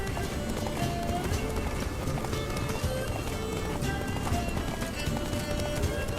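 Horse hooves gallop steadily in The Witcher 3, a fast continuous clip-clop at close range and constant loudness, with a faint voice now and then over the running.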